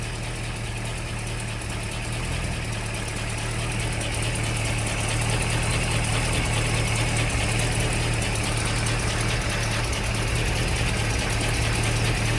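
A 1967 Shelby GT350 with a 289 HiPo V8 and Le Mans carburetor idles after starting, a loud, close, steady rumble with a constant low hum and busy mechanical texture throughout.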